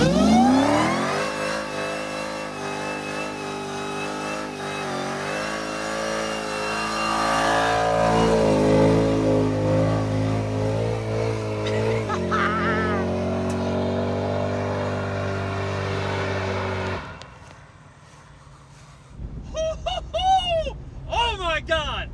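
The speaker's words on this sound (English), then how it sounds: "oh my God, that was a long burnout" A Dodge SRT-10 truck fitted with a Dodge Demon engine does a long, loud burnout, its engine screaming steadily at high revs for many seconds before cutting off, followed by excited voices.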